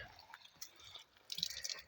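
Water drips and trickles out of a squeezed plastic bottle, a few faint, soft drops followed by a brief spatter near the end, quiet and close with no talking.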